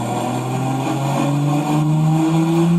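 Car engine revving hard during a dyno pull of roughly 800 horsepower, a loud sustained drone rising steadily in pitch as it accelerates, close and without voices.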